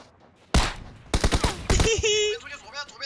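Gunfire in Game for Peace: one loud, close shot, then a tight burst of several rapid shots, followed by ringing tonal game sounds and what may be faint voices.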